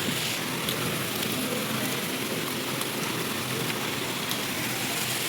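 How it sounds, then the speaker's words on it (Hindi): Heavy rain pours steadily during a day-long storm, a dense, even hiss without pause and no voices. "बहुत तेज़ बारिश हो रही है।"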